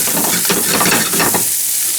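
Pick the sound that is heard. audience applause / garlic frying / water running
garlic frying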